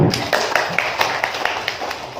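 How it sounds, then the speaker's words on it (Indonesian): A small audience at a school best-practice presentation claps in a sparse, uneven patter of individual hand claps, close and moderately loud, lasting a couple of seconds. "Tepuk tangan untuk Pak Yusman."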